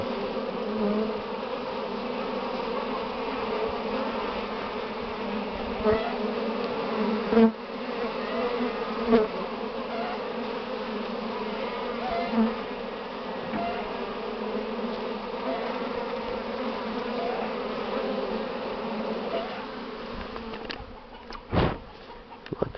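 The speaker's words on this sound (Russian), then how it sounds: "И пчелы уже обножку понесли." Honeybees buzz steadily and densely around hives in early spring, carrying in their first pollen, a continuous close drone with a few brief knocks and clicks.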